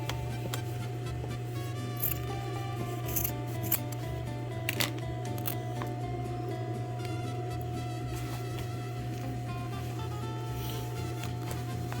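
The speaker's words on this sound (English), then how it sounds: "I'm gonna trim over here on this side as well." Scissors trim fabric during sewing with a few soft, quick snips against a steady background hum, with no talk over them.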